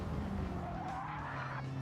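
A race car in a GT7 or iRacing racing game brakes hard and skids, giving a continuous engine drone under a rising tire squeal that lasts the full two seconds at steady loudness.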